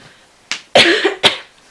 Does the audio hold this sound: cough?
yes